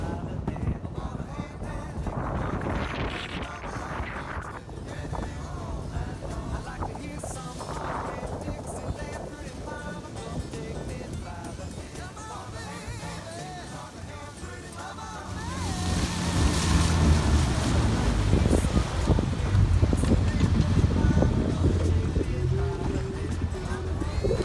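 Boat ride back to an island after a day of fishing, with steady engine and wind noise and water rushing against the hull, growing louder and rougher about two thirds through.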